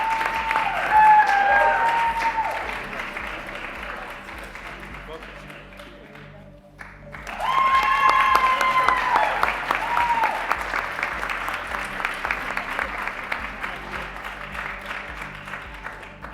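Audience applause at an HR achievement awards ceremony, a sustained round of clapping that dips around the middle and then swells again, with voices and music-like tones running beneath it.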